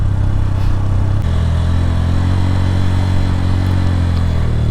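A motorcycle rolls downhill on a mountain road in Bandarban, its engine droning loud and close with a low, steady rumble that shifts pitch slightly partway through, wind roaring over it and no talking.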